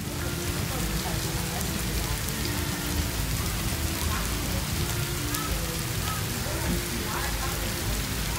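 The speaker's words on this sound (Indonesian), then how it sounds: "Aku nggak tahu ini hujan." Steady rain falls in Ubud, Bali, a dense, even hiss of drops on surfaces that continues unbroken at moderate loudness, with a low background rumble underneath.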